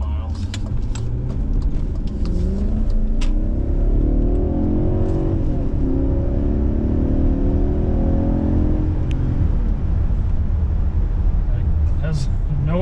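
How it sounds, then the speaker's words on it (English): A 2001 BMW 740iL on a test drive pulls hard, its engine note rising steadily in pitch as it accelerates, loud and close inside the cabin, with people talking over it. "Sounds like a sports car when you get on it."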